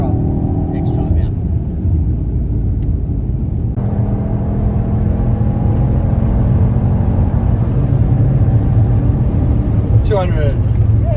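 High-powered car engine rated at 460 kilowatts and 750 newton meters of torque, driving on a race track at a motoring festival, a loud, close, sustained rumbling drone with shifting engine tones and speech over it.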